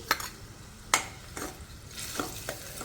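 Tomato puree goes into golden-brown onions frying in a pan for a garlic-clove curry, sizzling steadily beneath repeated sharp clicks of a spoon stirring against the pan.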